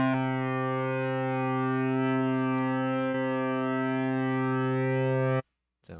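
A dungeon synth drone pad played back in Ableton: a sustained, buzzy, harmonically rich chord that holds steady and loud for about five seconds, then cuts off abruptly into near silence.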